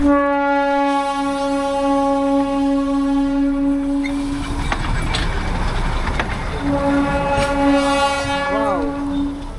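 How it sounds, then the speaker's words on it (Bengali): The Darjeeling toy train sounds a long, loud horn beside a market, then its wheels clatter and rumble past nearby before the horn blares again. "আর আমার সামনে কিন্তু টয় ট્রেন চলে এসছে"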